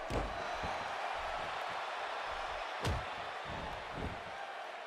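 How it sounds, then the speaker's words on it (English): Arena crowd in the WWE 2K17 wrestling video game, a constant roar of cheering with a few sharp thuds cutting through, moderately loud and sustained throughout. "Would you listen to this crowd?"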